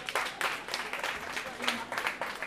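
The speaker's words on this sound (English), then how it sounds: "Can we give her another round of applause?" An audience applauds at a 60th birthday celebration with a steady wash of clapping that swells in places, while people talk and cheer through it.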